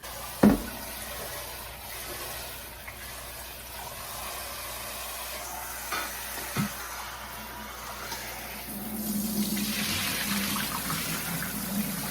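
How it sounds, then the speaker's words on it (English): Tap water runs continuously to rinse pickling salt off cucumbers, a steady close stream that swells in the final seconds, with a couple of brief knocks early on. "I'm gonna rinse all of the pickling salt off."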